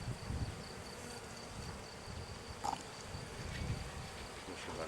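Honeybees buzz steadily and close by, a faint continuous droning hum with occasional louder passes.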